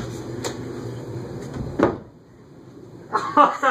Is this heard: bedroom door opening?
yes